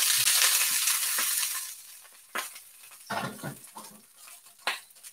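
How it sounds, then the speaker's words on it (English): Sausages frying in a cast iron cauldron give a loud, dense sizzle that eases off, followed by scattered crackles and stirring scrapes. "That's the best way to cook sausages."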